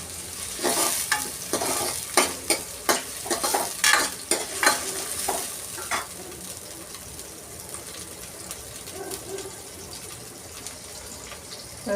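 Tomato and onion being stir-fried in oil in a pan: a run of sharp spatula scrapes and taps over a bright sizzle for the first half, then a steadier, quieter sizzle with only occasional stirring.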